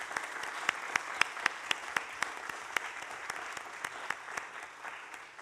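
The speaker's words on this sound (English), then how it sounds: "If we can just kind of give them a round of applause" Audience applause for students at a county board of commissioners meeting: a soft, steady wash of clapping with several sharp, closer individual claps standing out along the way.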